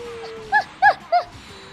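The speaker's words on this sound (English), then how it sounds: "What's the dog doing?" A video game dog in Tokyo Mirage Sessions #FE Encore gives three quick, high, yipping barks in a row, close and clear, over a quiet game background.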